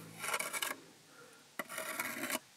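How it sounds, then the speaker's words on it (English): A trowel scrapes excess mortar off freshly laid brick while a failed BBQ pit is rebuilt into a pizza oven, heard as two close, gritty rasping strokes separated by a short pause. "Scrape off the excess."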